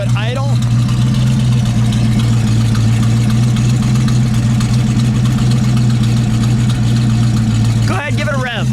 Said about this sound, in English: Then listen to it idle.